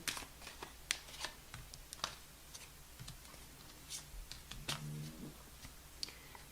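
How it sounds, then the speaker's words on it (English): A deck of tarot cards is shuffled in a quiet room, with quick, crisp riffling flicks and taps coming in short irregular bursts, close and soft. "One more shuffle."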